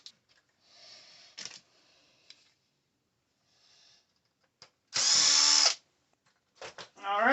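A power drill whirs in short bursts while undoing the axle shafts of a Traxxas RC car, including one loud, close burst of about a second among quieter clicks and handling noises.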